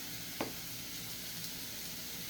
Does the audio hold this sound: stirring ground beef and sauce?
yes